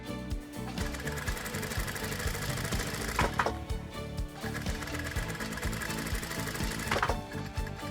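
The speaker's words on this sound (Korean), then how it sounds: "둔탁하지만 나름의 장단에 맞춰 돌아가는 재봉틀 소리마저도 정겹게 느껴지는" A sewing machine in a shop at Gyodong Market in Daegu runs continuously with a dull, rapid mechanical clatter and whirr, rhythmic and fairly close, with a couple of brief sharper squeaks.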